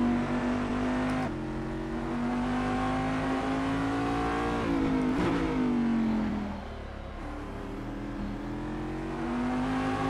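Cadillac DPi (Daytona Prototype International) race car in Assetto Corsa, its engine droning loud and steady with repeated rev rises and gear-shift dips throughout, no talking.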